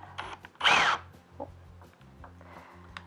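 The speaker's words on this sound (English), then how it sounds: "now we can drill for the thicker material" A drill bores a pocket hole through thicker material in a Kreg 300 Series jig, with one short, loud whirring burst followed by quieter handling knocks.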